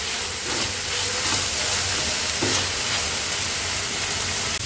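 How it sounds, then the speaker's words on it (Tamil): A masala mixture for paneer butter masala fries in a pan with a steady, dense sizzle and hiss, close and continuous with faint stirring scrapes and no voices. "இப்போது நமக்கு எல்லாமே கலந்து நல்லா ஃப்ரை ஆகிடுச்சு"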